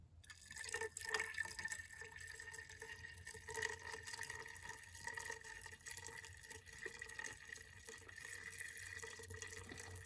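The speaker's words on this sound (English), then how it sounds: "let's go ahead and pour that vinegar" Vinegar pours steadily into an air-conditioner drain line opening, gurgling and trickling at close range for several seconds.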